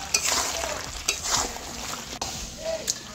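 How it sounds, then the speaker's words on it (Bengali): Jackfruit curry with sugar, ghee and garam masala is stirred in a pan, a soft sizzle of frying under scraping spoon strokes against the metal, with occasional light clinks, close and fairly quiet. "এইবারে সব কিছু একসাথে খুব ভালো করে মিশিয়ে নেব।"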